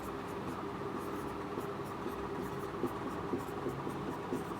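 Marker writing out an answer option on a board for a reasoning lesson, a continuous soft scratchy squeak over steady room hum, close and moderate, without speech.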